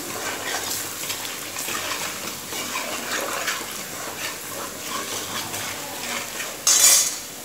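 Poha with turmeric being stirred in a pan with a metal spoon, repeated scraping and clinking strokes at moderate volume, close by, ending in a louder sharp clatter.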